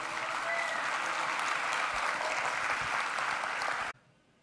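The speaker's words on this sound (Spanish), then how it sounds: "A este grupo de profesionales en estudios literarios brindémosles un fuerte aplauso." Full, even applause from the audience at a university graduation ceremony for theology, philosophy and humanities graduates lasts about four seconds and then cuts off abruptly.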